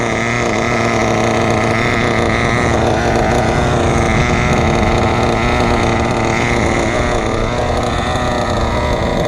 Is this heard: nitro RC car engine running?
yes